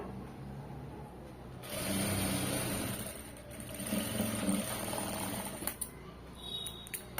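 A sewing machine stitches a side joint in cloth, starting after a quiet moment and then running in a steady, whirring drone that holds close and even, with a few clicks near the end.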